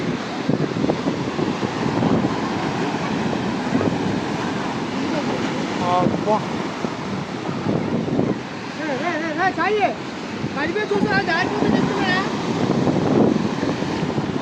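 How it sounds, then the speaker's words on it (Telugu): Ocean waves roll in at Vizag beach near Bujjikonda, a continuous loud surge of surf mixed with strong wind buffeting the microphone, with faint voices in the background. "పెద్ద పెద్ద అల్లు వస్తున్నాయి"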